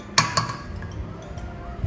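A spoon clinks against a bowl while scooping German cookie dough for Chinese New Year baking, with two sharp metallic taps early on, then soft scraping under low background murmur.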